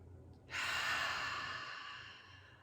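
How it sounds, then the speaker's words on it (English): A person takes a single deep breath in and then lets out a long, soft, breathy exhale, close and quiet, with no talking. "Take a nice deep breath in."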